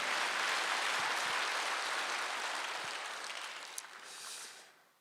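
A church congregation at a Wednesday worship service bursts into sustained applause that holds as a dense, even wash before fading out near the end.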